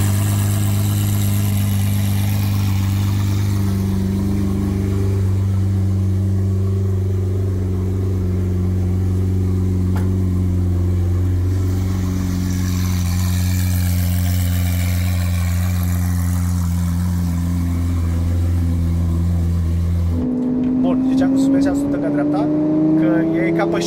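A Lamborghini's engine idles with a steady low hum, heard inside the car. After about twenty seconds it revs up. People talk throughout.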